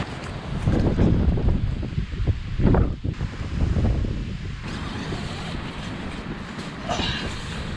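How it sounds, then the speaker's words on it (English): Strong wind buffets the microphone at a lakeside campsite by Lake Tekapo, New Zealand, a steady broadband roar with gusty surges and flapping rustle throughout, no voices. "Wind is really fierce out there."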